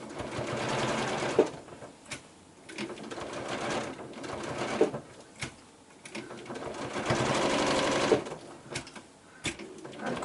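A sewing machine stitches a trapunto quilt block in several runs of rapid mechanical chatter, broken by short pauses and sharp clicks, loud and close with no talking.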